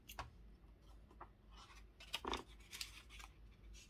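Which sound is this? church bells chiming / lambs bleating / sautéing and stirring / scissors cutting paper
scissors cutting paper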